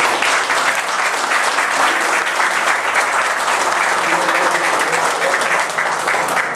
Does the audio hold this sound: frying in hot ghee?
no